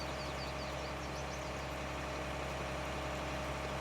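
A tractor pulling a cultivator across a field in Farming Simulator 19 gives off a constant, droning low engine rumble that holds steady and unbroken throughout, with no talking.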